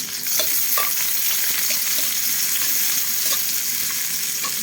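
Breakfast frying in a pan, a continuous close sizzle with occasional stirring scrapes and small pops, no talking.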